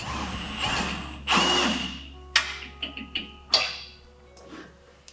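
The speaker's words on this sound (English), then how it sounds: "We can go ahead and install all the upper extrusions with thread forming screws and anti-seize." Short bursts of a power driver whir one after another, driving thread-forming screws coated in anti-seize into the upper extrusions on a Jeep Gladiator, each spin loud and close with brief pauses between.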